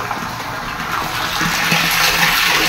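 Water pours steadily into a freshly cleaned water tank, a continuous rushing gush that grows slightly fuller as it goes, with no voices.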